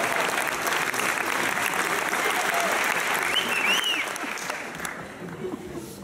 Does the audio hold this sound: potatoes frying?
no